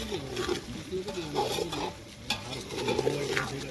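Chillies frying in hot oil in a home kitchen, a close bubbling sizzle with irregular stirring and clinks of utensils against the pot.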